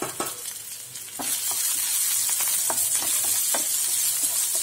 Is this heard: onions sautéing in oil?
yes